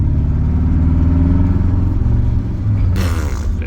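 A BMW E39 M5 engine idles roughly with a steady, dense low rumble and uneven pulsing, close and loud throughout, with a brief burst of clatter near the end.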